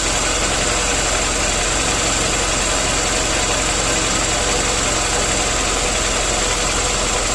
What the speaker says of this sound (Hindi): अभी आरपीएम बढ़ गए तो ये पॉइंट है परफेक्ट जो एवरेज को मिलता है।